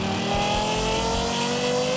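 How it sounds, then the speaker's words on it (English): A smooth-sounding car engine in Forza Horizon 5 revs steadily and loudly, a continuous close engine drone with rising and falling pitch and no talk over it. "you need to find yourself a car with a very smooth sounding engine"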